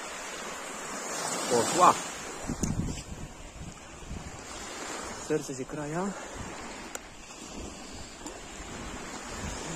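Calm Baltic Sea waves wash steadily along the shore beneath gusty wind noise, while a person talks over the surf throughout.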